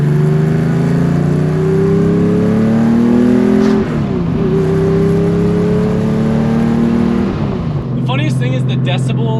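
A Nissan Skyline with new headers and muffler drives by up close, its exhaust droning loudly and rising through the revs, with gear changes at brief dips, and a voice speaks over the engine at times.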